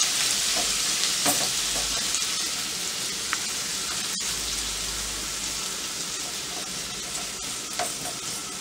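Mussels sautéing in a hot pan, a dense continuous sizzle with stirring scrapes and a few sharp utensil knocks, close and fairly loud, no voices.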